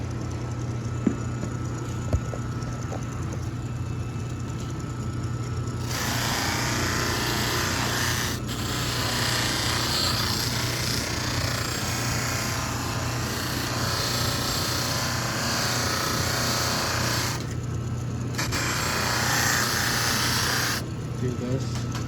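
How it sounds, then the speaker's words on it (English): A buffing wheel grinds against a Kawasaki KX85 motorcycle engine head to clean it, a harsh whirring rasp in long sustained passes with brief breaks, loud and close over a low background hum. "Using the buffing wheel and a little bit of"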